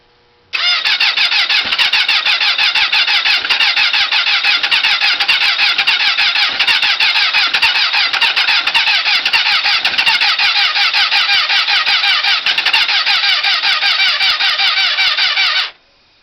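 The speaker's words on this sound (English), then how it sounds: "After I do this, you're going to see the bike cranking over." A motorcycle engine cranks over with a battery charger connected, giving one loud, close, steady whirring drone that runs unbroken for about fifteen seconds and then cuts off, with no voices.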